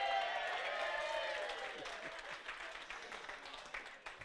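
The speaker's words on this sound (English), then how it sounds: "deserves a round of applause just in itself" A wedding crowd applauds and cheers during a speech, the clapping loud at first and gradually thinning, with a few voices rising over it.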